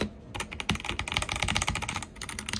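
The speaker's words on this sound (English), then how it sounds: "We have this cool, you know, keyboard that I got off Amazon for cheap." Rapid clattering keystrokes on an inexpensive computer keyboard fitted with custom keycaps, a dense close-up run of clicks with no talking.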